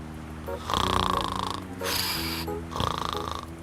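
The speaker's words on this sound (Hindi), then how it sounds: "मुझे भी तुम्हारे खराटे की आवाज सुनने का कोई शौक नहीं है।" Loud, close snoring repeats in long rasping breaths, several cycles in a row with no talking.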